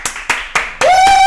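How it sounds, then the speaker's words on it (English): Three sharp, separate claps ring out in a steady rhythm, and a fourth is followed by a short sustained tone, as hands come together for a best of show winner at the Nova Open 2019 painting competition. "Everybody, please clap."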